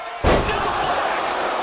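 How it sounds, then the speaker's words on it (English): A wrestler slammed onto the ring mat by a vertical suplex at a New Japan Pro-Wrestling eight-man tag match, one loud heavy thud followed by sustained arena crowd roar. "Down, a perfect vertical suplex."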